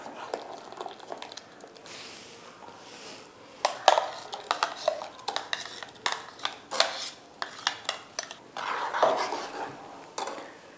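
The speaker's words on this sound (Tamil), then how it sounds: "இந்த அரைச்சி வச்சுருக்க விழுதை வந்து இந்த பாலோட மிக்ஸ் பண்ணும்" A spoon clinks and scrapes against a pot while ground almond paste is stirred into milk for payasam, with irregular close metallic taps and soft swishing, quiet between strikes.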